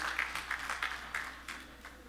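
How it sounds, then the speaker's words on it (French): Church congregation at a Sunday service applauds, a moderate, fairly distant patter of clapping with small bursts, steady through the short stretch with no talking over it. "je n'ai rien dit et puis vous applaudissez."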